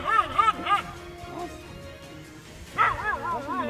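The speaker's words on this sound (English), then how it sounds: "lunging at the lion with a threatening bark" A dog lunges at a lion and lioness, giving threatening, wavering barks and yelps in two bursts, one at the start and one near the end, over a busy background.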